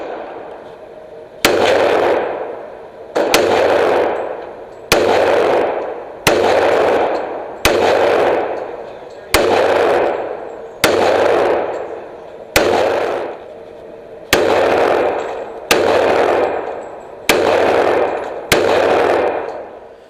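Pistol shots ring out at an outdoor shooting range from an STI 1911 and a Springfield Armory XD fed with Mec-Gar magazines: about thirteen loud, sharp single shots at a steady pace, each followed by a decaying echo.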